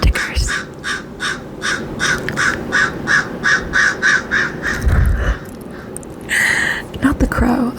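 A crow caws again and again in a steady rhythm, fairly close, over a continuous background hiss, followed by a few scattered sounds near the end.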